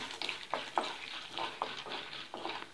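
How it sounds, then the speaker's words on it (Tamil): Peanuts and chana dal frying in oil while being stirred, giving a quiet sizzle with rhythmic scraping strokes about every half second. "வேர்க்கடலை இதெல்லாம் சேர்த்து கொஞ்சம் லைட்டாக ப்ரௌன் கலராக வர வரையும் கலரிக்கலாம்."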